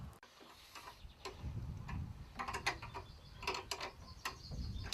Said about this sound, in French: serrer ma tige filetée pour faire la jonction entre l'ancien gond et le nouveau gond